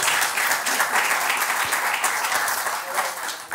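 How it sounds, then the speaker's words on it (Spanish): Studio audience applause on a talk show, dense, lively clapping from a crowd that holds steady for a few seconds with small peaks, heard without speech over it. "Un aplauso a Andrea, por favor, que no lo ha traído para acá."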